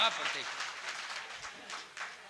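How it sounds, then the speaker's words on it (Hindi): A short burst of audience clapping at a Hindi-Urdu poetry gathering (kavi sammelan and mushaira) in Meerut, fairly faint and brief, with voices mixed in. "एक बार जोरदार ताली दो इनके लिए।"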